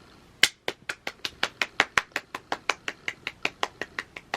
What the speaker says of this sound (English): I hope y'all are clapping too.